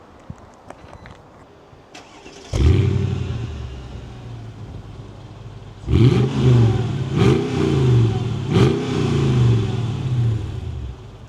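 A Mercedes CLK55 AMG engine cranks and fires into a rumbling V8 idle, then revs sharply several times in a row, loud and close.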